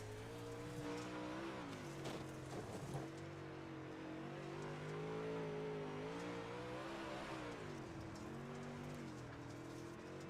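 Dirt track WISSOTA modified race cars roar steadily around the oval, engines droning and rising and falling as they pass, continuous and fairly distant with no talk.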